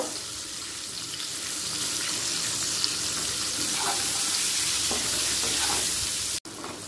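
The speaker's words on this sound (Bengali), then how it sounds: "পনিরগুলোকে হালকা করে ভেজে নেব।" Paneer pieces sizzle steadily while being lightly fried in a pan, a close, even crackle running throughout with occasional small pops and a brief dropout near the end.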